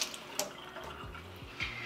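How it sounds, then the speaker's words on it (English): Water runs from a kitchen tap while a Keurig K-Cafe filter holder is rinsed beneath it, giving a soft, close splashing trickle with a few gurgles and drips, faint and steady without talk. "Just rinse it really quickly under water."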